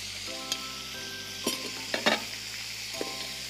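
Chicken manchurian fries in a pan with a soft, steady sizzle, with a few sharper scrapes and clinks as it is stirred.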